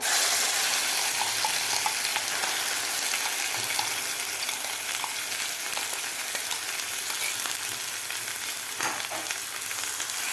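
Paneer curry with turmeric being stirred in a hot pan, a steady close sizzle and frying hiss with faint scraping of the spoon throughout, alone and evenly loud.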